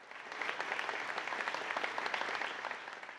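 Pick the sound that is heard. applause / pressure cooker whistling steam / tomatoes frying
applause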